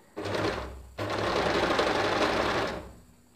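Sewing machine running fast, stitching piping cord (dori) into a strip of cloth, two continuous loud bursts with a brief pause between them, no talking.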